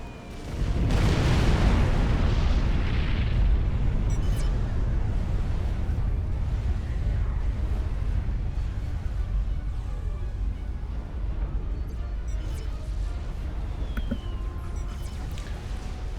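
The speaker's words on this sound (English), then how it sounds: "You can see the missiles have been fired" Missiles exploding in the real-time strategy game Supreme Commander: Forged Alliance give a sustained, loud rumbling barrage of booms that builds in the first seconds and rolls on continuously throughout.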